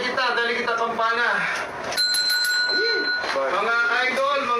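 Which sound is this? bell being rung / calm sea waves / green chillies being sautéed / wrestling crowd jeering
bell being rung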